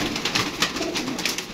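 Pigeons coo in soft, repeated throaty calls, close by and steady. Faint outdoor background sits beneath them, with no voices.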